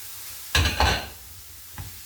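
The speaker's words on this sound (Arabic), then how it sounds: "بعد ما حطات ليا البصله غادي نزيد عليها الكفته ديالنا" Kefta minced meat goes into a pan of frying onions with two quick, loud bursts of sizzle, then a smaller third one.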